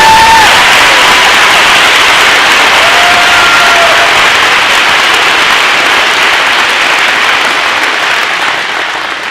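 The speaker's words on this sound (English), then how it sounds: "Round of applause for these" A graduation audience applauds the Class of 2024 students, a dense, steady wash of clapping with a few cheers that holds loud throughout and eases slightly toward the end.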